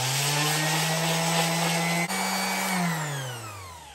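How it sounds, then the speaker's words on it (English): Power sander grinding on an axe head: a loud, steady motor whine close to the microphone, with a brief dip midway, then the pitch sliding down as the tool winds down at the end. "I take my sander, friends."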